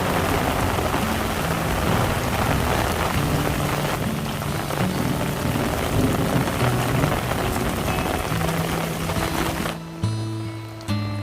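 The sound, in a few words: rain shower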